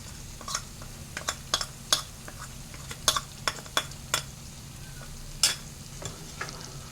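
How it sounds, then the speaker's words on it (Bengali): Spice paste fried in oil in a pan while cooking a vegetarian labra with pea-lentil fritters, a steady low sizzle broken by repeated clinks and scrapes of a spoon stirring, with no talk. "এবার আমি তেলে এই মশলাটা দিয়ে দেবো।"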